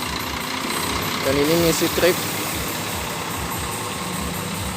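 A Putra Pelangi intercity bus idles at steady low volume, a continuous low rumble running throughout while someone talks over it.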